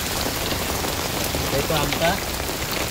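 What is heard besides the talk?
heavy rain falling on an umbrella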